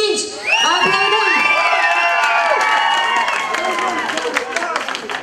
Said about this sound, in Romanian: Aplaudăm!